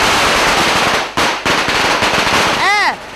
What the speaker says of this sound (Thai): ทีมงานจึงจุดประทัดทันที